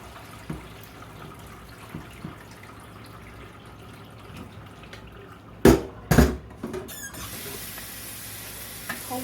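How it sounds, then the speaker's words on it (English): Cold water runs into a pot in a kitchen while freshly picked green beans are cooled, heard as a quiet trickle and then two loud, close splashing pours in quick succession, followed by a steady running hiss. "Cold water into it"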